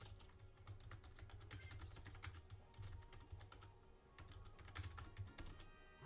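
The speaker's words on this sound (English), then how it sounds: "I'm just gonna type this in chat." Fast computer keyboard typing as a chat message is entered during a Pokémon shiny hunt, a steady run of crisp key clicks lasting several seconds with no talking.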